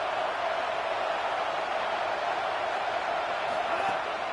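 A football stadium crowd at a college game roars steadily and loudly throughout, a dense continuous wash of cheering noise with no clear pauses.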